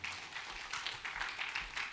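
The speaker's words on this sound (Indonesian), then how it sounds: "Berikan tepuk tangan bagi Tuhan." A church congregation applauding, a brief burst of many hands clapping in rapid irregular rhythm, faint and somewhat distant.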